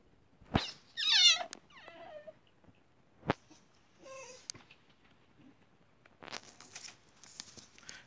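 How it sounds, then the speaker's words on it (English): A dog whines in short high-pitched cries, faint and somewhat distant, with scattered clicks and rustles between them. "Sorry if you can hear a crying dog in the background"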